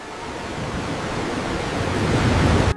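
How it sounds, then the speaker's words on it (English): A dense, continuous roar of ocean waves swells slightly louder over a few seconds, heard alone with no voices. "The seas choke on lifeless waves."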